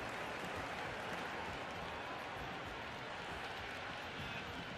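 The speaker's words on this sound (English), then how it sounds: "The crowd is electric right now." A cricket stadium crowd at a PSL final between Peshawar Zalmi and Hyderabad Kingsmen keeps up a dense, distant roar of cheering and applause that holds steady throughout.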